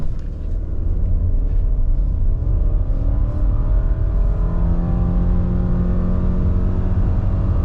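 A 2024 Subaru Forester with a CVT accelerating hard from 0 to 60 at high altitude in sport mode, traction off, after a brake rev; a loud, steady engine drone with gradually rising tones heard from inside the car.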